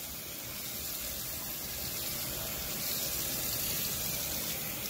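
Tap water runs steadily into a sink while a mask is rinsed clean with soap and water, a continuous broadband rush at close range with no voices over it.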